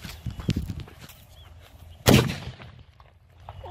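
A homemade cannon packed with gunpowder from sutli firecrackers fires with one sharp, loud boom near the middle, after some scattered rustling and handling noises.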